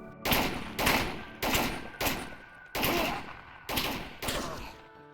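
Gunfire bursts with sharp bullet cracks and suppression effects in game combat, loud and repeated in about seven evenly spaced volleys, each a hard crack that decays quickly, with no talking.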